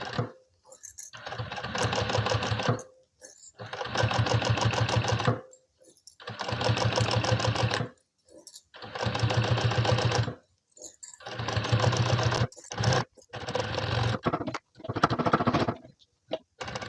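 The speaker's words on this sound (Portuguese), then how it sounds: "E eu faço esse pesponto com o ponto 4, para que ele fique bem largo" A sewing machine topstitches a handbag with size 60 polyamide nylon thread on a wide stitch setting. It runs in several fast, rattling bursts of one to two seconds, close and loud, with short pauses between runs.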